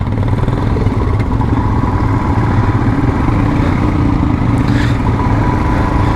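A Royal Enfield motorcycle engine thrums loud and close at a steady low rumble as the bike pulls in at a fuel stop in the Himalayas, with constant wind buffeting and no pause in the drone.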